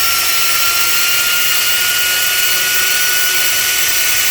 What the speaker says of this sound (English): So here's a straight die grinder,